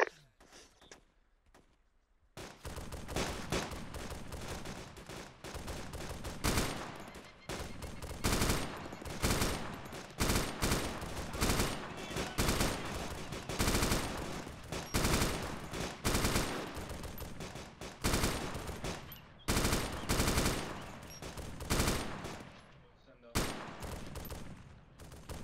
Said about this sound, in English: So far, just AK fire.